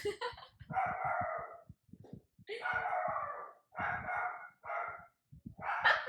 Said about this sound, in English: Pause for Phoebe barking.